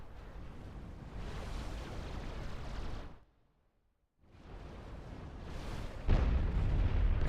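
Bombing in the Supreme Commander 2 real-time strategy game makes a dense, rumbling roar of overlapping distant explosions. It stops briefly in near silence, then builds again, ending in a louder, heavier barrage.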